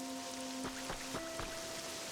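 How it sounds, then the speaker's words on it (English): Rain from the Pokemon Pokopia game patters and splashes softly on the ground, a faint steady spray with a few brief droplet ticks, under quiet sustained musical tones. "You appreciate when games have raindrops splashing on the ground effects?"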